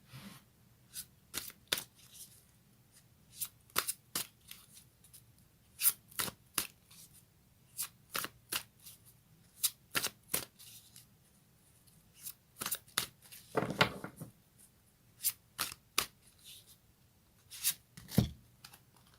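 Fairy tarot cards are shuffled in quick, crisp riffling bursts, repeated many times at close range with short pauses between them and no talk.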